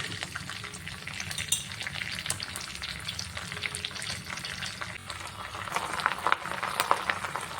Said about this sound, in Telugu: వేసుకొని లో ఫ్లేమ్లో పెట్టుకొని బాగా ఫ్రై అవ్వనివ్వాలి